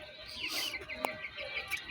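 Chickens and a rooster cluck and call softly in a yard, short faint vocalizations scattered over a steady background with one brief sharper sound midway.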